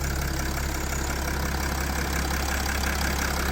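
A Mercedes Sprinter extra-long van with 340,000 km on the clock idles close by. Its engine gives a steady, loud, even rumble with a constant low throb and no voices over it.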